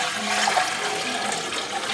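Water rushes steadily into a pot, a continuous loud splashing gush that stays even throughout with no voices.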